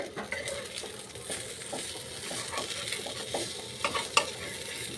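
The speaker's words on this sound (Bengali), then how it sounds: "এই যে এই যে বেগুন ভাজা হচ্ছে" Eggplant slices fry in plenty of hot oil, a steady crackling sizzle heard close up with scraping and stirring in the pan and a couple of sharp utensil clinks near the end.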